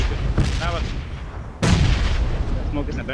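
Bomb explosions in the BGMI battle royale game: two sharp, loud booming blasts about a second apart, the second heavier, with faint game sounds between them.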